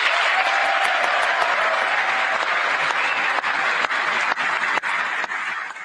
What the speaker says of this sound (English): He's clapping himself there.